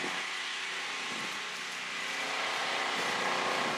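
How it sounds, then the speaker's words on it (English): A food truck runs steadily on a small-town street outside quilt shops, a continuous broadband engine and fan drone holding at moderate level for the whole stretch, with no voices. "The noise you hear is a food truck"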